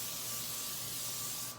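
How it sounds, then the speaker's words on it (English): Olive oil spray misted lightly over cooking sheets: a single steady, loud hiss that holds for over a second and then cuts off, with no talk over it. "I just very lightly cover them with olive oil spray."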